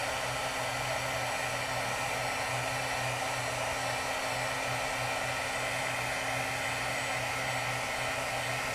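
A heat embossing tool blows a steady, loud, unbroken hot-air roar while it heats embossing powder from beneath a stamped card piece, with no voices.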